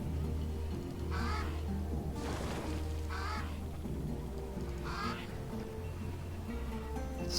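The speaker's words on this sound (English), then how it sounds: "The Crow." Crow caws sound repeatedly in the fantasy strategy game Age of Wonders III, four harsh calls spaced about a second apart over a low, steady ambient drone, each caw sharp and fairly prominent.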